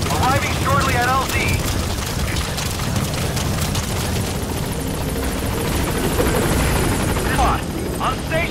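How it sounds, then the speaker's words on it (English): A support helicopter in Metal Gear Solid V arrives at a landing zone, its loud continuous rotor thrum filling the scene while radio-style voices speak over it and brief game effects chirp near the start and end. "Support helicopter requested. This is Pequot. Arriving shortly at LZ."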